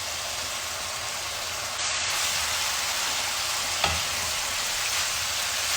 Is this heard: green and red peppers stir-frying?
yes